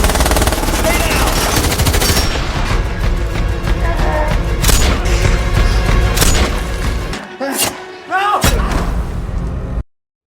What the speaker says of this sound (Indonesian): Dengan teganya ia malah menembak kedua temannya.